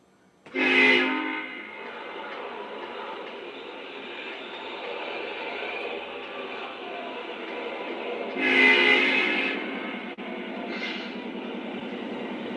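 Lionel and MTH Conrail model trains run on track with a steady electric hum and rumble, and the engines sound their horns twice as loud blasts near the start and again late on.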